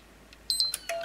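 A PlayStation 3 console gives short, high electronic beeps at power-on while its power button is held, several quick tones in close succession, clear and near against a quiet background.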